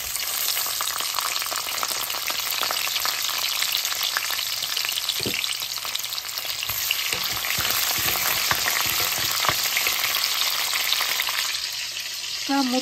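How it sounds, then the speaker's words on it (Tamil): Mustard seeds, cumin, fenugreek, garlic and dried and green chilies fry in hot oil for a Tamil egg curry, giving a steady, close, dense sizzle with faint crackles and occasional stirring throughout, no voices. "இப்போ எண்ணெய் கொதிச்சுட்டுது. கடுகு, சீரகம், வெந்தயம், பூண்டு, செத்தல் மிளகாய்,"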